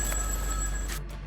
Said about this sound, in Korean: 집을 떠나는 순간까지도 할머니에게 쉼없이 전화를 걸어온